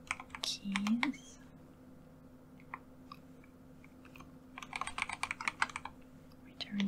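Computer keyboard typed in soft, close clicking bursts with pauses between runs, quiet and intimate, with a faint murmur of voice at moments.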